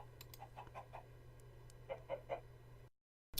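Minecraft chickens cluck in short, soft bursts over a low steady hum, then everything cuts to silence before a brief sound returns.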